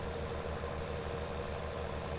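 A tractor engine in a farming video game strains while pulling a plow, a steady low rumbling drone that holds at constant volume with no one speaking.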